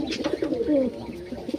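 Domestic pigeons, including Lakka and Indian Lakka breeds, give soft, close cooing calls, a few short coos followed by a longer rolling coo, with light background chatter.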